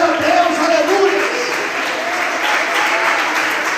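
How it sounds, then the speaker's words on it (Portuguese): A large church congregation claps steadily and continuously, a dense wash of applause with a voice faintly audible underneath. "Você pode aplaudir e exaltar a Deus, aleluia."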